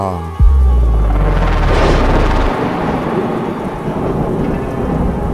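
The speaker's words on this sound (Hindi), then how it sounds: "ये बारिश तो बहुत तेज हो रही है।" Heavy rain pours down in a dense, steady hiss, opened by a deep rolling thunderclap that booms loudly for a couple of seconds.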